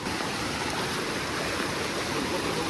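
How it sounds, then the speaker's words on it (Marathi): Stream water in rural Konkan rushes over rocks in a continuous, even babble, moderately close and steady, with no talking. "तर पाण्याचा फ्लो बघू शकतो तुम्ही काय भारी आहे"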